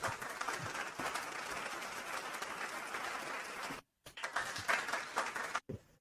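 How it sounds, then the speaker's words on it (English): Sustained, fairly loud applause-like clapping fills most of the stretch, broken by a sudden cutout, then resumes in uneven bursts; it is meant as a host clapping for a guest but sounds more like many hands. "the reason why that I'm giving those claps is, again, Jan, like, you really stood out to me"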